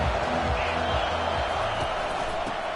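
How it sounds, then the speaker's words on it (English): A college football stadium crowd at a Baylor game gives off a steady, dense roar that stays loud and constant throughout, with a commentator's voice over it. "This crowd bringing the energy and noise early."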